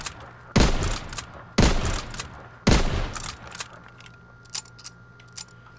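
Sniper rifle shots in a video game: three sharp, loud cracks spaced about a second apart, each followed by a short mechanical bolt or reload rattle and a decaying tail, with faint clicks afterward.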